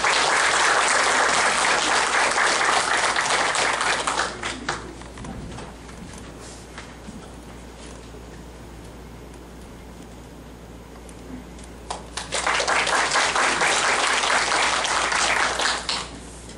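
Applause greets a professor's opening address at the launch ceremony of the 2012 ICME-12 committee in a Seoul hall. It is loud for about four seconds, fades to a quiet room, then swells again near the end.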